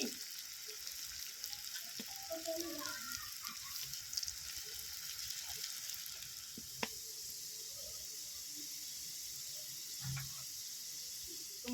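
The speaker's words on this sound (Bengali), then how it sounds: "হালকা স্টিম করে লাল লাল করে ভেজে নিতে হবে" Soybean kebabs fry in a pan with a steady, close sizzle and crackle that runs the whole time, broken by a few faint clinks and small stirring sounds.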